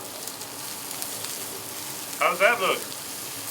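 Porterhouse and ribeye steaks sizzle on a griddle top, a steady, even hiss throughout, with a short spoken question breaking in near the end.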